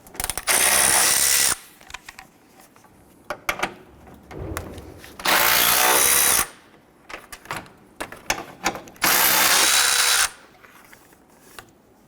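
A power tool loosens 10mm bolts on the front of a 2011-2021 Jeep Grand Cherokee during an AC condenser replacement: three loud bursts of whirring, each about one and a half seconds, separated by quieter clicks and handling noise.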